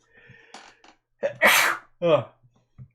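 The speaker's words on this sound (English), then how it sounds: "I'm gonna sneeze," A single loud sneeze with a sharp inhale beforehand, followed by a short voiced exhale, close to the listener with brief murmuring before it.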